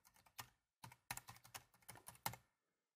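Computer keyboard typing comes in short bursts of clicks at close range, with brief pauses between runs of keystrokes while text is written in AutoCAD 2013.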